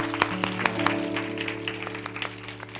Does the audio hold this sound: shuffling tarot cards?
no